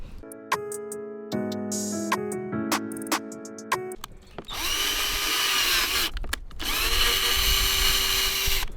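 A power drill bores into a car's rear bumper while fitting a rear diffuser on a 2022 Honda Civic Si, sounding in loud sustained whirring bursts with a brief pause between them, close up and with no talk.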